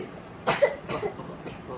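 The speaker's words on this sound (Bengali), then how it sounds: "আজকে খুব কাশি হচ্ছে।" Three short, dry coughs come from a person up close, each one a sharp burst over a low room hum, the last one fainter.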